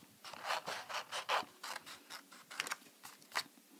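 Scissors snip through paper while a shape is cut out for an Easter pop-up card, a quick series of close, crisp rhythmic cuts and rubs repeating in short bursts, with no speech.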